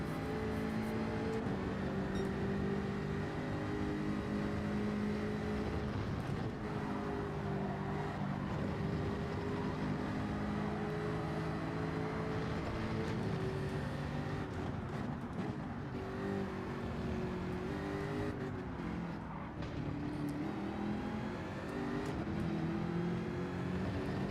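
Race car engine in Gran Turismo during a qualifying lap at Dragon Trail Gardens, a loud, continuous buzzing engine tone that rises and falls with acceleration and shifts, playing alone for the whole stretch.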